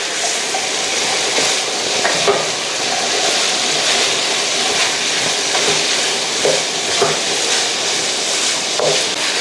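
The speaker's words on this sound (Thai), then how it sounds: "ต้าหู้ที่เราทอดเสร็จเรียบร้อยแล้วนะครับใส่ลงไปเลยครับ" Fried tofu is tossed and stirred with a mixture in a pan, giving a steady sizzling hiss with faint scraping and clatter throughout, close and continuous.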